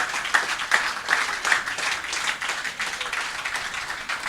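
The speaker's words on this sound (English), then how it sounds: "Please don't stop clapping until she sits here." Audience applause at a food-production conference as a guest walks to her seat, a dense, steady clapping with rhythmic accents, moderately close and unbroken.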